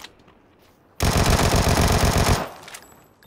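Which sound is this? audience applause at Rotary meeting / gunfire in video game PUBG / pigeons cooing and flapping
gunfire in video game PUBG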